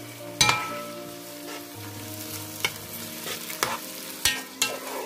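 Tomato and pressed garlic frying and being stirred in a pan for a Cameroonian yam stew, a soft steady sizzle broken by several sharp scraping clatters of a utensil against the pan, with no talking.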